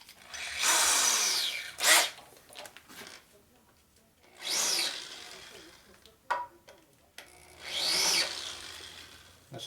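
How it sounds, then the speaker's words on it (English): A hand deburring tool scrapes around a hole in a 41mm aluminum fork slider from a 1949-72 Harley panhead or shovelhead, three rasping bursts of a few seconds each with quieter handling noises between. "I'm going to deburr it first, so get my deburring tool here"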